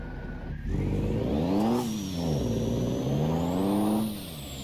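A heavy truck engine in a driving video game, a Kenworth K100E or Peterbilt 379, revs up and down in repeated surges, with a rising whine layered over the deep rumble, loud and close.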